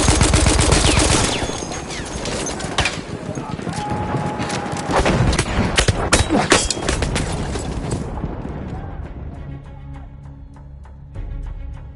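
Enemy machine gun fire in the World War I shooter Battlefield 1: loud, dense bursts of automatic gunfire and booms through most of the stretch, with game voices shouting over them, easing to quieter distant shots toward the end.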